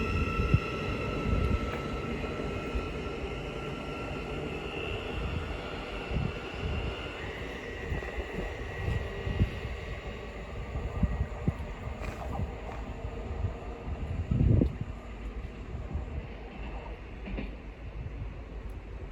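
The 15:11 Thameslink service from Horsham to Peterborough departs Hitchin station on the East Coast Main Line, its rumble and wheel noise rolling on steadily for nearly twenty seconds with faint high whines.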